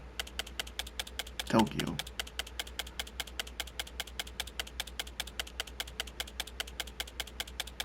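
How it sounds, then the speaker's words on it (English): Rapid, even typewriter-style key clicks tick steadily throughout inside the video game Tokyo Psychodemic, with a brief louder thump near the start and a voice speaking over the clatter. "They must be on a typewriter or something."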